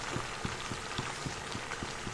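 Water simmering in a cooking pot: a steady bubbling hiss with soft, regular pops throughout, fairly quiet and close, without voices.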